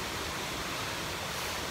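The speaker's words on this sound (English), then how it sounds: "Lots of little waterfalls like this as I'm going up." Small waterfalls tumble along a creek on a solo overnight hike, a steady close rush of water with no pauses and no voices.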